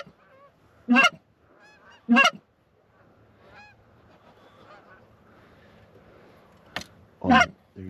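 Geese honk overhead during a goose and duck hunt in Wisconsin. Three loud bursts of honking come clearly at intervals, with a fainter call between them and quiet field background in the gaps.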